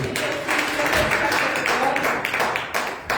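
A church congregation applauding for Jesus Christ during a Holy Ghost service: a steady, dense patter of many hands clapping together, filling the room throughout.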